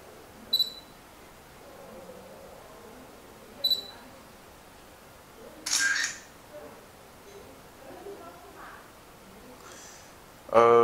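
Leagoo Lead3 phone camera taking photos: a few short, sharp shutter clicks spaced seconds apart, one longer burst midway, faint background between them and a louder click-like burst at the end.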